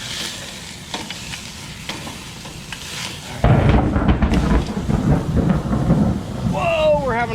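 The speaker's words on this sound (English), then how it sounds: "We're having a thunderstorm." Thunder rumbles low and heavy through a steady rain-like hiss during an outdoor thunderstorm while a tomahawk steak grills, the rumble swelling loud midway and persisting, with a brief voice-like whoop near the end.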